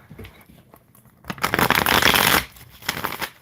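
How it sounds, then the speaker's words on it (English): Tarot cards being shuffled by hand, a quiet riffle that swells into a dense, loud burst of card flutter lasting about a second, then a brief softer riffle after it. "we gotta shuffle"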